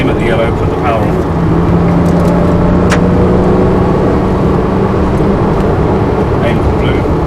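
Porsche car engine droning steadily and loud through a driving lesson, pulling and accelerating on a track, with an instructor's voice speaking over the continuous engine noise.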